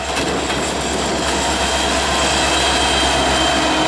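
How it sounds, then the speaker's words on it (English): A short Norfolk Southern freight train, NS-28M, led by heritage locomotive NS-1069 in Virginian colours, rumbles past loud and close with a steady, continuous roar of engine and rolling cars. "What we are taking a look at is NS-1069, the heritage locomotive of the Virginian. It's leading on NS-28M."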